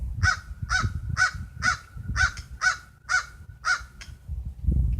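Pet crows giving a regular run of about eight sharp, loud caws in even rhythm, close by, over low background rumble.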